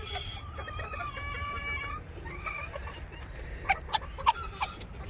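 Chickens on a small farm being fed chick feed, with soft clucking and murmuring throughout and a few sharper, louder clucks near the end. The sound is fairly quiet and close.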